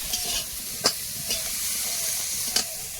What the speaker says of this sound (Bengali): একটু তেল দিয়ে আর সামান্য একটু হলুদ দিয়ে ডাঁটাগুলো ভাজতে থাকবো